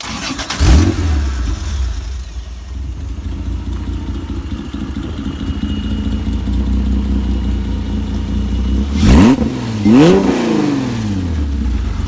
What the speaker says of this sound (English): We'll go ahead and fire up the car here.